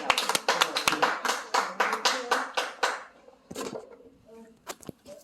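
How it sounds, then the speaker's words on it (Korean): An audience claps at a peace-neutral-state gathering during a guest introduction: a run of sharp, fairly regular claps for about three seconds, then fading into a few scattered claps as a voice speaks. "박수 치겠습니다"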